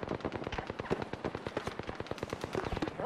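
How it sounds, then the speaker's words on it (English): Rapid automatic gunfire in the battle royale shooter Apex Legends, a dense, steady burst of shots rattling continuously at close range with no pauses. "Opening fire on the enemy."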